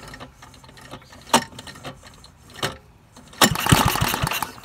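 A rebuilt Bolens tractor engine is pull-started with the choke on: a few separate rope pulls rattle and clatter, then the engine catches and runs in a rough, busy burst close by.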